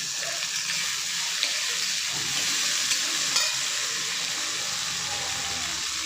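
Chopped onion and tomato fry in a pan, giving a constant close hissing sizzle with a few faint clicks and no clear talking.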